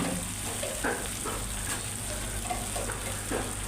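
Curry paste stir-frying in a little oil in a pan before fish is added, a steady close sizzle with occasional soft scrapes of the spatula.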